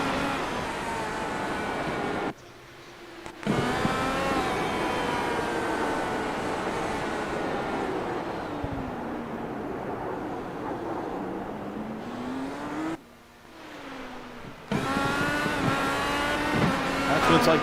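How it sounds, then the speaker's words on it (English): Race cars at the Long Beach Grand Prix roar past continuously in a loud, sustained engine whine with pitch sweeps as they accelerate and battle for position, broken by two brief quieter gaps, with commentary voices over the noise. "we're going to have a fight here for position"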